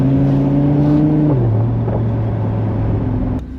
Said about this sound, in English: There's the burbles. Just a lovely smooth V10 sound.